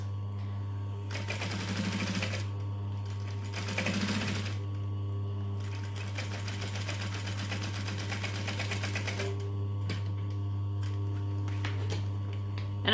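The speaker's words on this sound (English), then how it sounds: "I'm just going to go along and line it up for a little bit and then stitch it and then stop and go and stop and go." A sewing machine stitches fabric about an eighth of an inch from the edge in stop-and-go bursts: two short runs of rapid whirring, then a longer steady run, over a constant low motor hum, close by with no talking.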